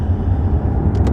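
Lexus LS 600h L hybrid saloon with a 5-litre V8 and electronic CVT: a smooth, steady low engine and road rumble heard from inside the cabin, loud and continuous without a break.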